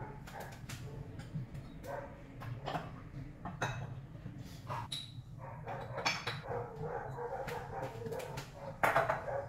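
Scattered dog barks and yips at moderate distance from dogs roaming in the late afternoon, irregular and overlapping, over a steady low background hum with some clatter.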